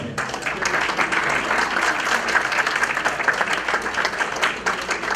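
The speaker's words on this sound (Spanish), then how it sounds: "Aplausos, por favor." An audience at an academic notarial law conference applauds steadily for several seconds, a dense, even wash of many hands clapping at moderate volume.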